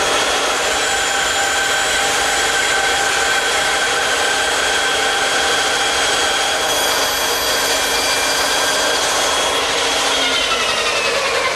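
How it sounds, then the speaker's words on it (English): Bandsaw cutting the corner off a wooden shelf, a loud continuous whirring blade hum with a rasping cut, steady throughout and near, no voices. "I'll remove the material at the bandsaw"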